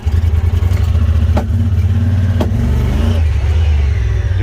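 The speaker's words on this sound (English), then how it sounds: "It's all over the map, making no power. It's jumping real bad, it's stuttering real bad." A Honda Pioneer 1000 side-by-side engine stutters and surges under acceleration in top gear with a failing fuel pump, a loud, close, uneven drone that keeps bogging and jumping, with no voices.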